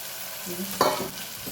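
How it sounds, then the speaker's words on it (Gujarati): Sliced bottle gourd dropped into hot oil with mustard seeds, cumin and asafoetida, giving a short burst of sizzling and frying with a stirring scrape, close and moderately loud, no voices. "એમાં રાઈ એડ કરીએ, જીરું, હિંગ, સાથે સાથે દૂધી પણ એડ કરી દઈએ,"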